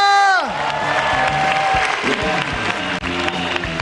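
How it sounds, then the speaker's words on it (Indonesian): Studio audience at the SUCI comedy grand final applauding and cheering for a judge, busy clapping and whoops rising as a musical sting fades out, with a voice over the crowd. "beri tepuk tangan yang meriah untuk Raditya Dika"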